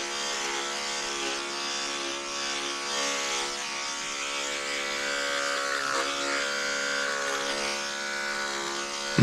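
Electric dog grooming clippers fitted with a 4-blade buzz steadily and close while trimming a doodle's head, a constant high whine with slight variations in load as they move through the coat.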